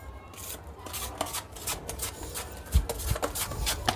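Wall putty powder being mixed into a creamy paste for damp wall repair, heard as close scraping and rubbing strokes with a few soft knocks, fairly quiet and steady.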